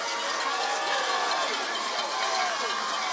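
Crowd cheering and roaring at a swimming race at the CARIFTA Games, a steady dense wall of noise across the whole moment, with a commentator's voice running underneath.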